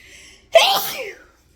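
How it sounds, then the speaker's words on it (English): One sharp, close sneeze caused by dust bursts out in a quiet room, preceded by a faint breathy intake and trailing off within a second. "look at this sneezing again."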